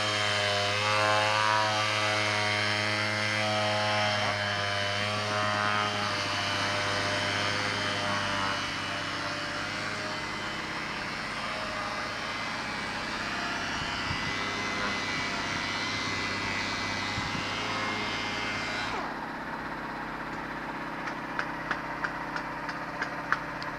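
A power sander grinds steadily against a boat hull, a loud sustained motor whine with strong harmonic drone that shifts pitch as pressure changes, then drops off near the end leaving scattered clicks.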